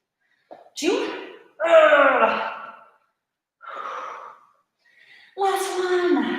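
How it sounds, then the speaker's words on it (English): Heavy, effortful breaths and gasps between reps of a leg day workout, loud and close, coming in bursts with pauses, with a voice heard around them. "I'm already breathing heavy"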